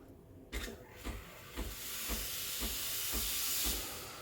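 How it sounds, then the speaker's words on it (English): A Breville Barista Express steam wand steams milk with a loud, close, steady hiss that swells as it goes. Regular soft thumps pulse through it about twice a second, with no talking. "the rest of the way I'm just gonna steam the milk"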